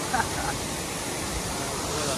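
A rural waterfall roaring as a continuous, dense broadband rush of falling water, loud and close, with no breaks.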